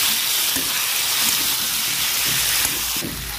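Pieces of pre-fried pointed gourd and potato stirred into a spice paste that has released its oil, for a vegetarian curry: a loud, close, continuous sizzle with faint scraping of the stirring, and no voices.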